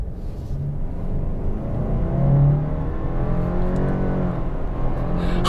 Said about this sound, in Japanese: 速くなったし、エンジン音がすごくなった。